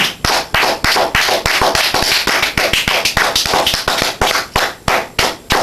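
A group claps in loud, steady rhythmic unison, sharp regular slaps repeating about three times per second.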